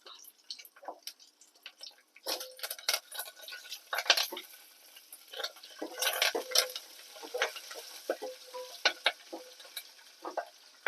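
A tempering of spices fries in a pan while a spoon stirs it, giving irregular bursts of crackling sizzle and metallic scraping clinks against quieter pauses, with no talk.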